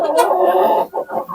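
Close, loud clucking and squawking comes from chickens and roosters on a poultry farm keeping Andijan black hens. The calls come in short, uneven bursts with no talk over them.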